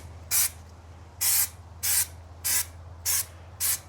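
Spray paint hisses from a can onto a 23-year-old Land Cruiser in six short, sharp bursts of roughly half a second each, evenly spaced and close, over a low background hum.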